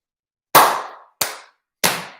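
Three crisp, forceful hand claps, the first strongest and the others slightly softer, spaced unevenly with short decaying tails in a quiet room.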